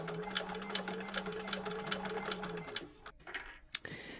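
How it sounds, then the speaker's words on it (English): A sewing machine runs steadily while stitching a narrow eighth-inch seam on a bag, a close, even mechanical whir with rapid needle ticks, then it stops and a few handling clicks follow. "on this side, we'll be sewing a 1/8 of an inch seam allowance to tack that side in place"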